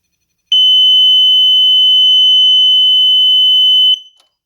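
A single loud, piercing electronic tone from a gel blaster/Nerf flashing sound grenade running on an 11-volt battery sounds continuously for about three and a half seconds, then cuts off abruptly.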